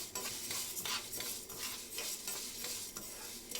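Washed green gram roasting in a pan while being stirred, still wet so it sizzles steadily: continuous bright hissing with rattling, scraping spoon strokes, close and even throughout, no voices.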